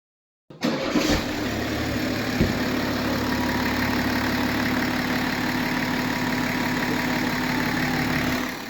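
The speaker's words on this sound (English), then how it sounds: "After priming, the engine started without hesitation" A BMW X5 G05 diesel engine starts and settles into a steady, even idle after a fuel filter replacement, heard up close and alone with a continuous low rumble.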